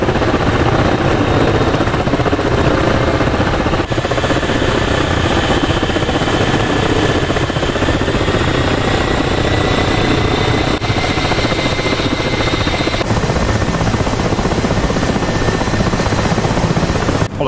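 Propeller aircraft engines in DCS World drone loudly and steadily throughout a takeoff run, a dense continuous roar with a low throbbing rumble and a rising tonal whine as power builds slowly.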